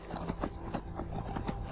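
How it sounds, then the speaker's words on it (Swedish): A horse running in the video game Skyrim, its hooves clip-clopping in a quick, steady rhythm that stays moderately faint and close throughout. "Och hästen kan ju givetvis också kuta."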